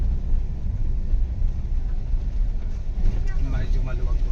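A Ford Everest engine runs steadily in fourth gear after a transmission rebuild, a continuous low rumble close by with some faint background noise and no clear change in pitch.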